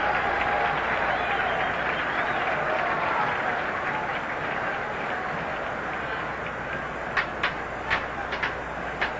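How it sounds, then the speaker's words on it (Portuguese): A football stadium crowd in a 1980 Brazilian league match, Vasco against Corinthians, applauding a player as he leaves the pitch, a broad, dense roar of clapping and cheering with a few sharper claps near the end. "Muito aplaudido, Juan."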